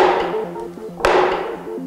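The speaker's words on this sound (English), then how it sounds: "I think I'm going to carry on hammering now" Hammering with a couple of sharp metallic strikes, the loudest about midway, ringing over a steady tonal background at close range.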